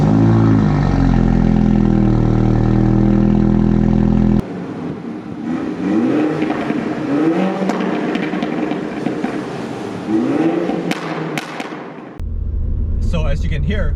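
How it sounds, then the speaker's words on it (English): A Mini John Cooper Works fitted with a JCW Pro exhaust sits at a loud, steady, deep idle after a cold start, then cuts to driving clips with repeated revs rising in pitch and sharp pops. "So my car has the JCW Pro exhaust, and let me just give you a few clips so you know what I'm talking about."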